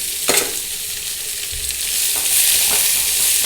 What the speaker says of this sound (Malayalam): എന്നിട്ട് നന്നായിട്ട് ഇളക്കി കൊടുക്കുക.